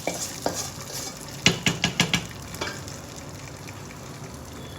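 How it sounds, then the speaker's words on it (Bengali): Hot tempering poured into coriander-leaf khichuri in a pot, a short burst of sizzling with a few clattering utensil knocks near the start, then a quieter hiss fading away. "তো আমি এটা খিচুড়ির মধ্যে ঢেলে দিলাম"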